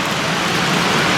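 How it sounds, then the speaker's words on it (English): Cold rain and hail pour down hard during a thunderstorm, a dense, steady roar of drops hitting surfaces close by, continuous and loud with no talk. "Oh, it's a big one. We're getting hail."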